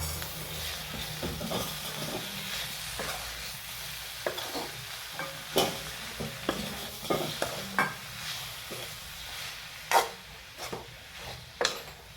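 Cooked soybeans are stirred into masala in a pan: soft scraping and spoon knocks over a gentle sizzle, close and fairly quiet, with a few sharper taps.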